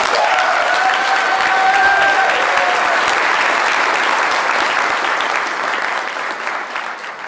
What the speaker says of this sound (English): please join me in a round of applause for all of our retirees and their families